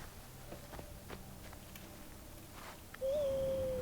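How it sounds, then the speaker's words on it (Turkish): In the game Far Cry Primal, a long, clear, steady owl hoot rises near the end after faint rustling and a few soft footstep-like taps. The hoot is close and sustained. "Sesi çok iyi baykuş sesi."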